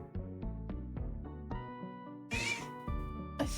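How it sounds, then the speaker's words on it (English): Pet cat named Amira meowing repeatedly indoors, a series of short, clear meows in an uneven rhythm, close and fairly loud, with no talking over them. "I really hope you guys can hear the meows"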